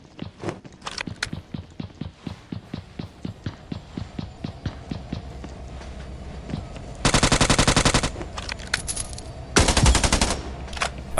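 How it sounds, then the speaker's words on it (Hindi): Sniper rifle shots in Scarfall 2.0, a mobile battle royale game on the Mumbai map, ring out amid a run of sharp, evenly spaced taps and two dense, loud bursts of rapid fire. "यहाँ पे बैक टू बैक स्नाइपर के शॉट्स की आवाज आ रही थी"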